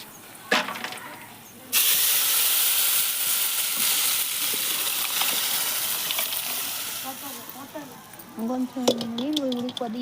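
Water heating in a pot as it boils, giving a sustained loud hiss and steamy rush after a sharp onset, with someone talking over the end.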